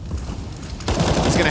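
M4 rifle gunfire in Counter-Strike during a pro match on the Vertigo map: a sudden dense burst of rapid shots kicks in partway through, loud and close, following quieter game ambience.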